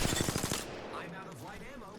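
A rapid burst of automatic gunfire from a weapon in Apex Legends rattles loudly for about half a second, then cuts off into quieter game ambience.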